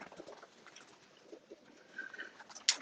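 Pigeons in a loft give faint, soft coos and small rustles in a quiet, distant-sounding space, with a sharper brief call near the end.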